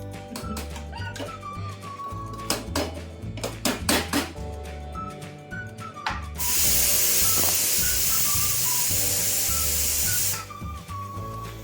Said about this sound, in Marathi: आता या मिसळला चांगला उकळ द्याय द्यायचा आहे